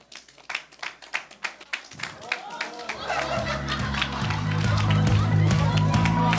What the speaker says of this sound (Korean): 자, 우리 앞으로 나오실 때 큰 박수!